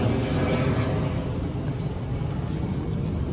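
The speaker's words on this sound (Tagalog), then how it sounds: "Narinig yung eroplano dito." Steady broadband roar of an airplane passing overhead near a condominium building, continuous and moderately loud for the whole stretch with no clear peaks, no talk over it.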